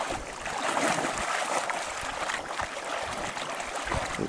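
A boat being dragged by hand through shallow river water: continuous splashing and sloshing close by with scattered knocks, at a fairly steady level throughout, with no talking.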